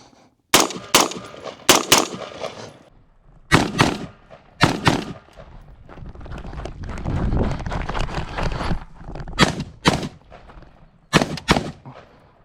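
Anderson Manufacturing Frontline 16 rifle fired outdoors: loud, close, sharp shots, mostly in quick pairs, with a rougher stretch of noise midway before more paired shots at the end.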